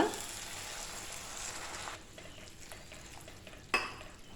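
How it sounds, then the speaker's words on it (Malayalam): Hot water pours into a sizzling pan of okra curry with a loud hiss for two seconds, then quieter bubbling and a sharp metal clink. "ഒന്നര ഗ്ലാസ് വെള്ളം ഒഴിച്ചു കൊടുത്തിട്ടുണ്ട്."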